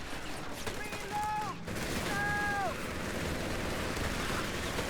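Bursts of MG42 machine gun fire from a World War II strategy game with Wehrmacht forces, heard as rapid crackling volleys under a busy battle din, with a couple of short whistling tones layered on top.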